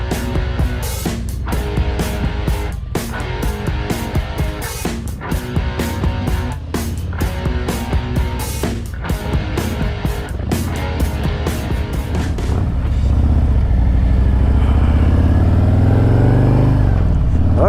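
A motorcycle ride in Florida: the engine runs continuously with rhythmic surges and music-like pulsing early on, then settles into a louder, steadier low rumble of riding toward the end, with no talking.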